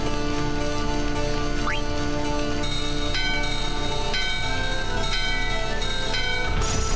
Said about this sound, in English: And a bell.